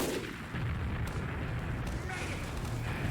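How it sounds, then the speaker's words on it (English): Two sniper rifles in Team Fortress 2 firing at nearly the same moment during a competitive match, sharp booming reports over dense game noise, with a commentator talking over the action. "Both snipers taking a shot at the same time."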